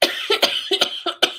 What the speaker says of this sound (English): Coming up to an hour and a half and I start coughing.